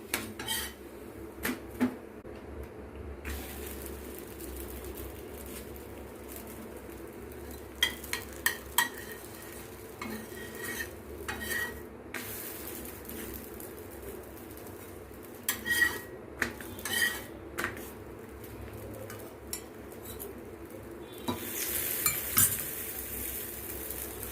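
Chapati cooks on a pan and is turned repeatedly, with a low background sizzle broken by scattered metallic clinks and scrapes of a utensil against the pan, close by and with no speech.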